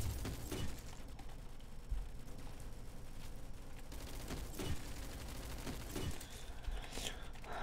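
Rapid automatic gunfire in the Roblox game Rolling Thunder crackles in dense bursts throughout, loud and continuous, with a voice talking over it.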